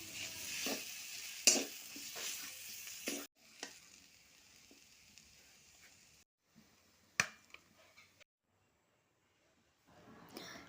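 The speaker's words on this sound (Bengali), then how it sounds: "জিরে গুঁড়ো দিয়ে ভেজে নিলাম" Turmeric, salt, chili and cumin powder frying in a pan, soft sizzling with scraping stirs and occasional sharp clicks from a utensil, fading to quiet gaps and near silence before a final faint sizzle.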